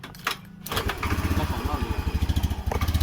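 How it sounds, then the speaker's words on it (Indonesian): A Honda Beat motorcycle with a suspected ECU and regulator fault revs up, its exhaust sputtering in a rapid, uneven stream of pops close by while someone talks over it. "Tapi kalau digas gini meletup"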